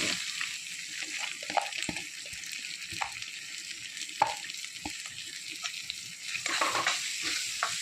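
Onion sizzles in hot oil with cumin seeds and curry leaves, a steady crackling hiss with occasional utensil knocks and stirring scrapes close by.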